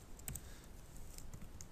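Soft, scattered keystrokes tap on a computer keyboard, quiet and close, with a few sharper clicks in a short burst.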